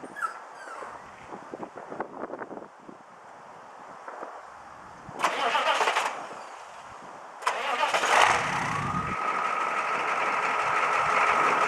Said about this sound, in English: So let's start the truck up here.